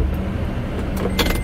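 Toyota Tundra pickup engine turning over and settling into a steady low idle, heard up close inside the cab with a few brief clicks and rattles near the end.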